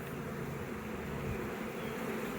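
A steady, droning buzz of many honeybees in flight around a hive in spring, continuous and fairly close, with no voices.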